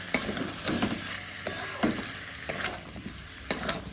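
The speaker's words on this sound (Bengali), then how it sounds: "এই যে আমার আলু সেদ্ধগুলো ছোলা হয়ে গেছে, আলুগুলোকেও দিয়ে দিলাম, ভালো করে কষিয়ে নেবে" Boiled potatoes and peas sautéing in a pan: a soft constant sizzle broken by sharp scraping stirs of a spatula against the pan at irregular moments, close and fairly quiet, with no talking.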